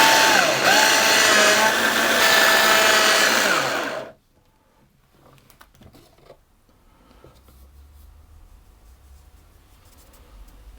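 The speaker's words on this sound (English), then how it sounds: "I'm going to process those or blitz them just for a short while. That will actually grind the hazelnuts slightly finer" A food processor blitzes hazelnuts for a short burst of about four seconds, a loud, steady whirring grind that stops abruptly, leaving near silence with faint kitchen noise.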